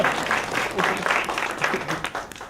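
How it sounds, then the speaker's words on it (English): Audience applause at a tech talk on AI and the future of work, a steady wash of clapping from a crowd that holds for the whole stretch, moderately loud and dense with a few sharper claps standing out. "Give that guy a round of applause back there"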